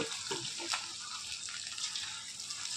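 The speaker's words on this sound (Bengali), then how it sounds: "তো বন্ধুরা এখন এক এক করে চিকেনগুলো ছেড়ে দিচ্ছি" Chicken pieces dropped into hot oil in a kadai for Hakka noodles sizzle in a continuous bright hiss, with a few louder pops as pieces go in.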